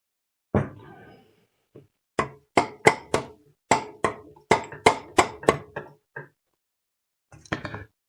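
A rubber mallet taps on an engine crankcase to split its halves, about a dozen dull knocks in an uneven rhythm with short gaps and a final pair after a pause, close and clear with no talking.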